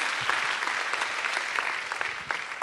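An audience at a high school veterans concert applauds steadily, a dense, continuous clapping from a crowd that holds level throughout.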